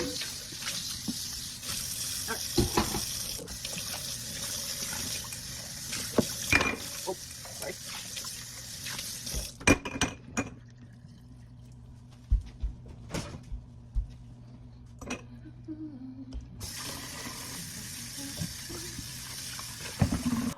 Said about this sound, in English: Really is easier if I just stay on top of the dishes and wash them as I dirty them